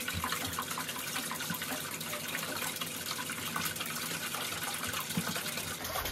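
Water from an electric water heater tank drains steadily into a floor drain, a continuous broadband rushing and gushing that stays fairly loud and even throughout with no talk.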